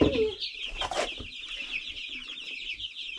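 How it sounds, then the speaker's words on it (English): A small chick on a New Zealand homestead chirps in a steady stream of high, thin peeps, close and fairly faint, with a few soft rustling knocks and no talking. "we had a friend drop off a little surprise chick yesterday"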